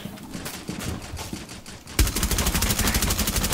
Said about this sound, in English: Was that you shooting, Craig?